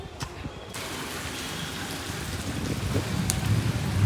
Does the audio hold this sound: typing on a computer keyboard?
no